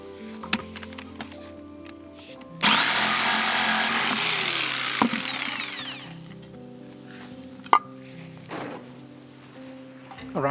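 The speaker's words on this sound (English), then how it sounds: "So I can cut there using a jigsaw." A jigsaw cuts through an old wooden shelf in a single loud, buzzing run of about three seconds. Scattered knocks and handling clatter come before and after the cut.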